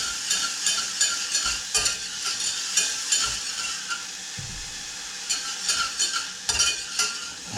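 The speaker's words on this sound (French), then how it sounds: "Donc on prend le fouet, on mélange un tout petit peu," A whisk stirring softened shallots in a pan as the base for a Comté cheese sauce, with quick rhythmic scraping and clinking strokes over a light sizzle, close and fairly steady.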